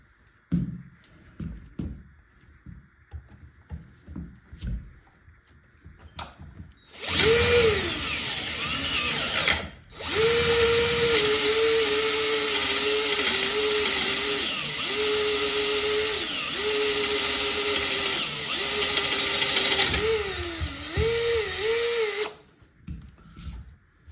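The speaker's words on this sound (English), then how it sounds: "is my donor metal that I'm drilling through" Power drill boring through donor metal for an outboard motor saddle clamp repair, running steadily and loudly for about fifteen seconds with a whining, slightly wavering pitch, preceded by quiet handling noises.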